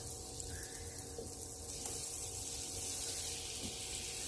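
Butter sizzling and melting in a hot pan, a steady, faint crackle and hiss with soft broadband texture continuing throughout, no voices.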